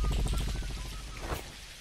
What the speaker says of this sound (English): I am tired of the rain, so I'm gonna make it sunny